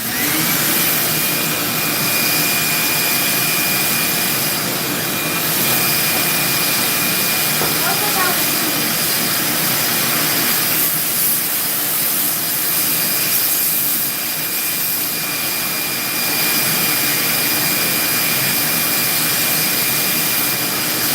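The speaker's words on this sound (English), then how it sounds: "Turn the air compressor on." An air compressor runs steadily throughout at a constant loud level, a continuous mechanical hum and hiss with faint tonal whine.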